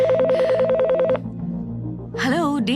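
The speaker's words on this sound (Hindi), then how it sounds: "आखिरकार कस्टमर का फोन है।" An office telephone at a design services company rings in a rapid warbling burst, then falls silent while a voice speaks over a low background hum.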